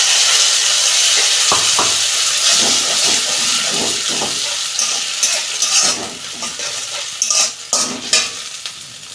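Tomato paste frying in a pan while preparing a fish roe dish, a loud close hiss and sizzle that gradually fades, with stirring scrapes and clatters growing more distinct toward the end, no speech.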